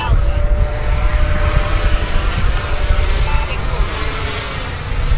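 An FMS Yak-130 70mm RC jet roars continuously overhead while performing a Kulbit, its loud ducted-fan whine holding steady throughout.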